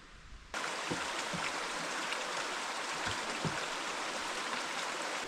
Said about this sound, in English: Really good waterfall right there if you can see it.